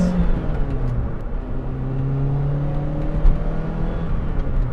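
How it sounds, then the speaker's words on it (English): A Lotus Elise engine pulls steadily on its lower cam, the rising drone of the revs clear and fairly loud for several seconds without reaching the high-cam range. "I'm not revving it all the way out. I'm not hitting the high cam right now"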